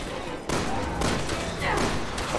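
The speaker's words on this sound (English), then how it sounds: "I'm shooting him from a distance." Gunfire in the video game Resident Evil sounds as a burst of loud, close shots and impacts in quick succession over about two seconds, with no talking.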